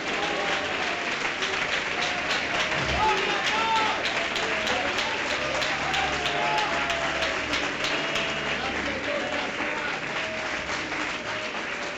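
A congregation at an evangelical church service claps steadily in praise of the Lord, sustained applause from many hands over twelve seconds with murmured voices and faint calls mixed underneath.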